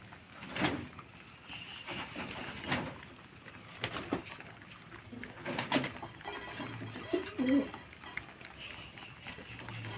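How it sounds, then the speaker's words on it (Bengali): Pigeons being fed coo and flutter nearby amid scattered rustling and pecking noises, with a few faint voices in the background. "পায়রাগুলোকে এখন খাইয়ে নিচ্ছি"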